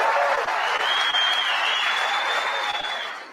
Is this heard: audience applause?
yes